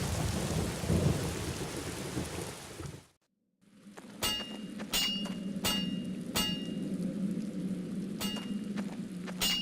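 Rain and thunder in The Black Mirror video game: a dense hiss of steady rainfall cuts to brief silence, then resumes with sharp, repeated cracks of nearby thunder over continuous rain.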